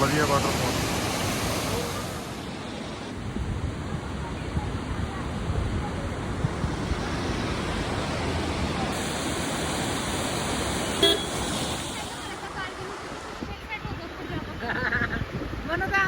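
Roadside waterfall on the mountain road from Manali to Rohtang, a continuous dense rush of falling water heard nearby, with faint traffic and a brief horn in the background.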